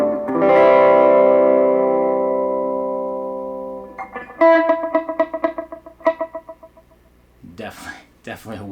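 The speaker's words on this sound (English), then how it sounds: "Definitely a wet sound there. So a lot of reverb, a little delay going on." Electric guitar through a Positive Grid Reactor 50 amp with wet breakup, heavy reverb and a little delay: a long ringing chord that slowly decays, then a run of picked notes with echoing tails, ending in some scratchy muted strums.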